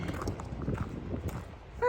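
Horse hooves clop along a trail in the Great Smoky Mountains in spring, a steady walking rhythm heard close, followed by a brief louder rustle at the end.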